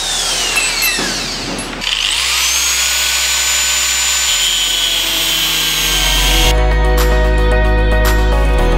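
An electric drill whines loudly and steadily, its pitch shifting as it bites and changes speed, close up and running alone for several seconds.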